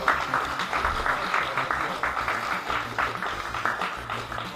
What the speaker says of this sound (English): Jerry gets a massive round of applause for his jacket